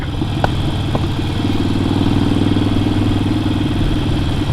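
A Harley-Davidson motorcycle engine runs with a steady, loud, throbbing rumble and mechanical clatter, holding a constant note close by with no talk over it.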